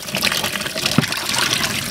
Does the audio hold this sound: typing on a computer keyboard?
no